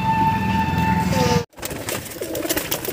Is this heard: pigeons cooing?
yes